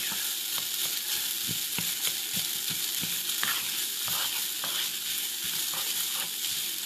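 Fried rice crisping in a hot pan, crushed bits left to brown, gives a steady close sizzle with frequent light scraping and stirring knocks, no talking.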